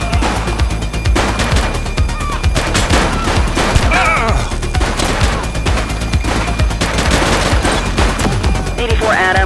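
Gunfire in the police game The Precinct, rendered as rapid, loud overlapping shots and bursts fired close by across the whole stretch, with a few voice fragments in between.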